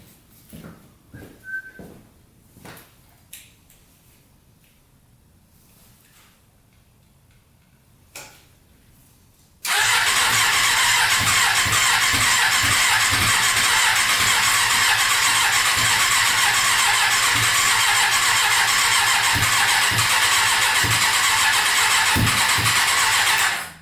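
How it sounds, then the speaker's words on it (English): Custom 100 hp Yamaha Banshee two-stroke engine bursting to life on its first start attempt after a few faint clicks and knocks, then roaring loud and steady for the rest of the clip, close by with no talk. "First start attempt coming up right now."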